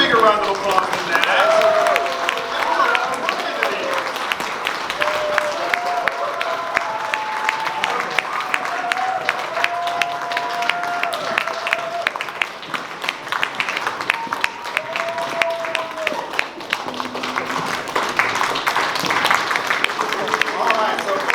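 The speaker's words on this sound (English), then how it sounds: "Give them a bigger round of applause than that." Applause from an audience at a steampunk festival fashion show and cosplay contest, sustained clapping for about twenty seconds with a brief dip partway through, with voices and cheers mixed in.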